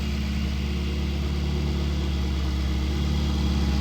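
The engine of a 2020 Ferrari 488 Pista idles in a deep, steady, loud rumble that stays close and constant, with no voices over it.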